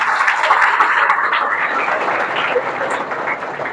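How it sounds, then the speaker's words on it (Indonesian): A student audience in a hall applauds two classmates, a close, fairly loud burst of many hands that gradually thins out. "tepuk tangan untuk 2 orang ini"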